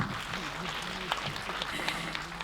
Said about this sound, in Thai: ขอเสียงปรบมือให้กระทรวงวัฒนธรรมหน่อยค่ะ